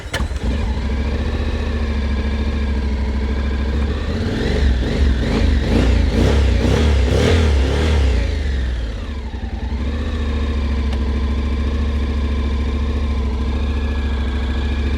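A 2021 Honda X-ADV motorcycle engine idles steadily and loud up close, then revs in a rising, throbbing burst of several blips before dropping back to a smooth idle, with no talking.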